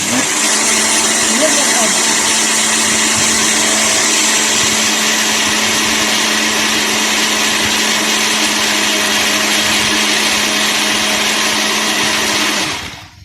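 Electric mixer whirring steadily as it beats sugar for an orange cake batter, a loud continuous motor drone running about thirteen seconds before cutting off, with a voice talking faintly underneath.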